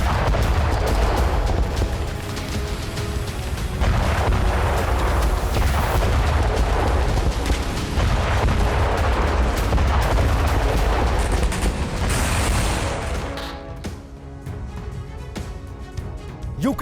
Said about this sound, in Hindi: इन बोट्स में धमाका हुआ